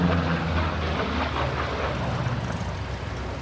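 An aerobatic propeller airplane performs at the AirVenture 2025 airshow, its engine drone a continuous broad roar that stays steady and fairly distant, fading slightly over a few seconds.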